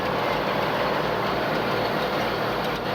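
Tractor engine idling close by during hay baling, a steady low rumbling drone with constant noise and no talk over it.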